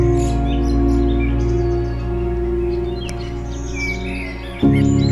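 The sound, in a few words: small birds chirping at dawn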